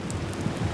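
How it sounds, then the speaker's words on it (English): Rain falls outside in a steady, dense hiss with a low rumbling wash underneath, continuous and fairly close, with no voices. "It's raining outside"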